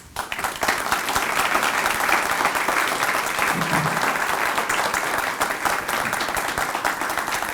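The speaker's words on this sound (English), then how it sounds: "They deserve that applause." Sustained applause from an audience at the HESTEC 2015 press conference, a steady dense wash of clapping that holds at full strength for about seven seconds, honoring two women asked to stand.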